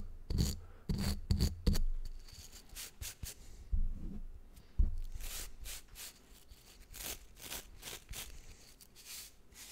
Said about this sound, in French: Je brosse comme il faut.